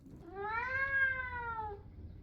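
A cat gives a single drawn-out meow, rising then falling, while being bathed in a tub; the call is clear and close, with no talk over it.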